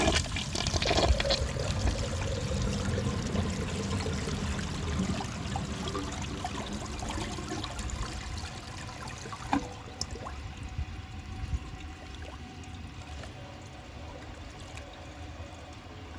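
A 1974 Eljer Sanus low-tank toilet flushes with a dish towel in the bowl, starting with a loud rushing gush of water that thins over the following seconds into gurgling and a trickling refill.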